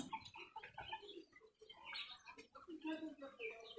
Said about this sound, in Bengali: এদিকে তো এই যে আমার মুরগির অবস্থা